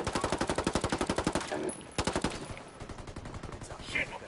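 Rapid automatic gunfire fills a shooter video game, with loud, evenly spaced bursts at first, then a pause and a second, looser run of shots fading into scattered pops.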